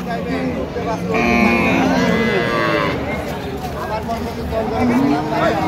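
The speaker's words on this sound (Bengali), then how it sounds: "গাভী বাছুর আমরা দেখছিলাম এখানে।" At the Ambari cattle market, cows and calves give several long, loud moos that overlap a busy crowd, while people haggle nearby throughout.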